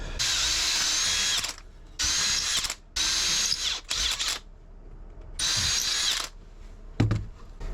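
Cordless power drill boring a clearance hole for mounting a charger inverter aboard a boat, several loud close bursts of whining motor and bit cutting, separated by short pauses, with no talk.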